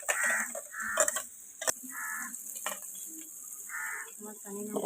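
Ground paste sautéing in hot oil for a quail gravy, giving a steady, moderate sizzle that hisses on beneath a few clinks and stirring noises.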